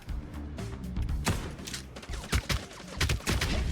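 Rapid gunfire bursts in a fast-paced indie video game, dense crackling shots and thumps stacked over one another, loud and continuous with no talking.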